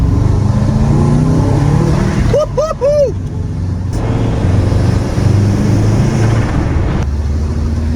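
Car on a test drive after a spark plug service, a steady engine and road rumble with wind noise running throughout, joined briefly by a short whistling tonal sound midway.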